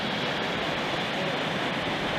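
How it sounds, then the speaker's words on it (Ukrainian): Waterfall at Skhidnytsia, water pouring down in a continuous broadband rush, steady and fairly close, with no voices over it. "саме у цьому місці, де водоспад, стікає водичка"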